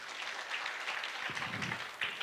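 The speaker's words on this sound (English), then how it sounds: "We can just clap because of that." Audience clapping at a celebration of an organization's 20th anniversary: a soft, steady patter of many hands held at a low level, with no voices over it.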